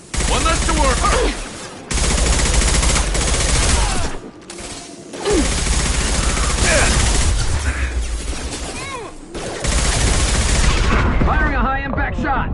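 High-impact shot gunfire in a video game, loud bursts of rapid automatic shots and booms in long rolling volleys broken by short pauses, with a voice talking between bursts.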